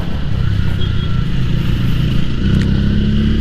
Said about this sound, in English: The exhaust sound is really nice.